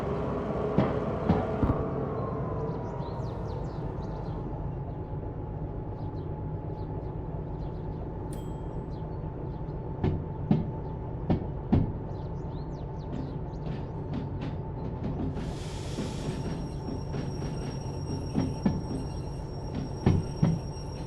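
A steam locomotive in Derail Valley pulls away to couple onto carriages, a low steady rumble of engine and wheels with scattered metallic clanks and knocks over it, and a brief hiss of steam partway through.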